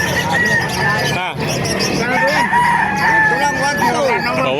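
A rooster crows in a busy chicken market in Calumpit, Bulacan, its call rising clearly over the steady murmur of vendors and buyers chatting and haggling close by.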